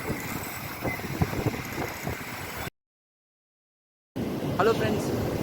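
Wind buffets the microphone at ECR beach during fishing, a steady low rumbling gust noise with surf in the background, cut by a few seconds of silence before resuming.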